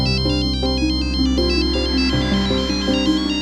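A mobile phone plays a melodic electronic ringtone, loud and continuous, with its repeating tune of bright notes over a steady low tone and no talking.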